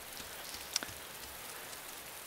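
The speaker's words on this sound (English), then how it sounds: "Because of the rain, it dampens noise levels" Steady rain falls in the DayZ video game, a soft continuous hiss with one brief sharper tap partway through, heard alone without speech.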